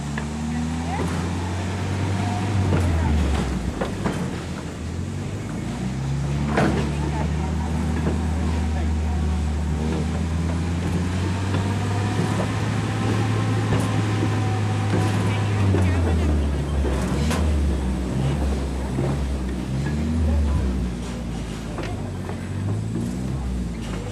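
A Ma & Pa Railroad push-pull train departs between Muddy Creek Forks and High Rock, Pennsylvania, its engine drone loud and steady with shifting rumbles, while people talk nearby.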